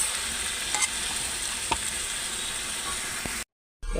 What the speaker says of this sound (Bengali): জিরের গুঁড়ো আর এই হলুদ গুঁড়ো দিয়ে ভালো করে নাড়িয়ে দেবে গাইস